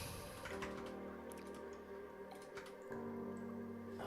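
Water drips and trickles nearby indoors, with soft irregular ticks and splashes over a steady low hum, fairly quiet and with no voices.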